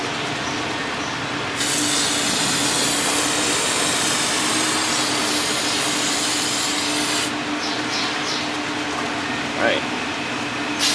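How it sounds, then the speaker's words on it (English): A pressure washer blasts grime and paint off an Eclipse GSX valve cover, producing a loud, steady, close hissing spray that runs for several seconds before cutting off. "I'm going to spray all that off with a pressure washer"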